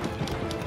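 Horse galloping in the video game Shadow of the Colossus, a short burst of rapid hoof clip-clops over a dense, loud rumbling background.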